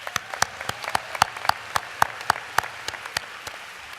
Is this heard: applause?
yes